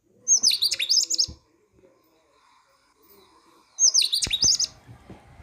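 Birds in the grounds of a government Ayurveda hospital in Bailhongal give two bursts of bright, rapid chirping song a few seconds apart, fairly close and clear, with faint low background noise between them.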